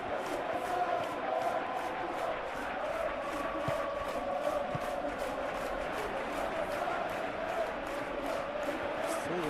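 A stadium crowd in the football video game PES 21 roars and chants steadily throughout, a sustained, dense wash of crowd noise with a faint rhythmic pulse beneath it.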